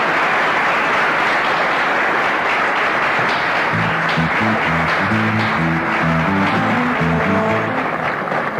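Loud, steady applause from a television studio audience fills the whole stretch, with music rising underneath partway through.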